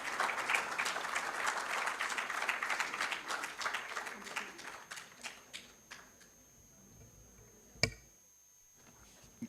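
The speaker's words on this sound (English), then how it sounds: "Let's appreciate all the dignitaries on the stage with a huge round of applause." Auditorium audience applauding dignitaries on stage: dense clapping at moderate distance that thins out into scattered claps and fades, ending with a single sharp knock.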